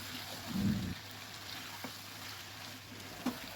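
Chicken curry masala with new potatoes sizzles softly as it is sautéed in oil, a faint, steady crackle with a brief louder stir near the start and a few small clinks.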